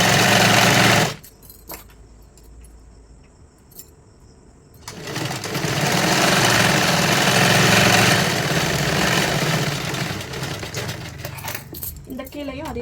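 A sewing machine stitches a size 44 katori blouse in short, buzzing bursts. A brief run comes first, then a pause with small handling clicks, then a long, steady, close-up stretch of rapid stitching.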